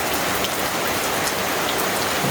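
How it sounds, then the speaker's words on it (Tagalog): Steady rain falls over a backyard garden, a dense, even hiss of drops pattering on leaves and surfaces, close and continuous without a break. "Ayan, tumutulo na po."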